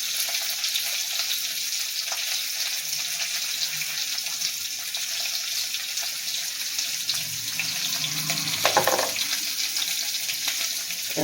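Ingredients for ridge gourd chutney sauté in a hot pan, giving a steady, loud, close sizzle that holds throughout, with a few small clinks near the end.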